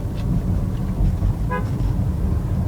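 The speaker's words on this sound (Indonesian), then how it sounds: "Klaksonnya bunyinya kenceng sih." A single short car horn toot from a Chevrolet Estate station wagon rises over a steady engine rumble and road noise, close by.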